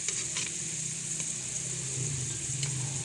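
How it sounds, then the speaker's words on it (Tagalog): Pork frying in a pan for adobo gives a steady, close sizzle with bright crackling spatter and a few sharper pops, continuous and moderately loud, no talking. "at iprito din natin yung pork mga kakusin."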